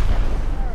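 A door blown open by an explosive during a raid in Rust, heard as a dense, loud low-frequency rumble of blast noise filling the short moment, with voices talking over it.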